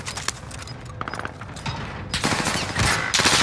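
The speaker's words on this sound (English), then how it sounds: "How is it just me getting shot?" Rapid gunfire rattles through a battle royale shooter game in bursts of quick cracks, growing louder and denser toward the end amid scattered clicks and game effects.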